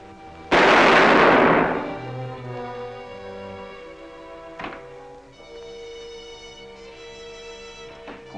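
A single loud gunshot fires into a corpse and its crack rings out sharply, then decays over a second or so into a sustained, tonal musical backdrop with a couple of faint knocks later.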